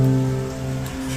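Steady rain patters on a surface, a constant hiss over a low electrical hum, with no voices.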